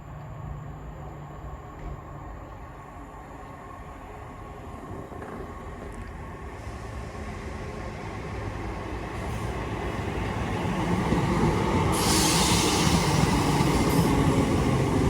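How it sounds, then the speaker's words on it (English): A Class 319 electric train pulls into Rainhill station, its steady rumble and rail roar building gradually from a moderate level to loud as it draws near, with no voices present. "Now arriving is a 319"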